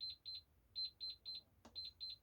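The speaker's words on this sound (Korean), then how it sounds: "알람 소리가 오고 있습니다." Rapid bursts of high electronic beeps repeat in quick groups, steady and fairly faint, broken once by a short click.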